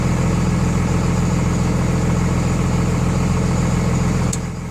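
A 24-valve Cummins diesel fitted with 50 hp DDP injector nozzles idles low and steady, a loud, even rumble with a regular clatter close up, easing slightly at the end.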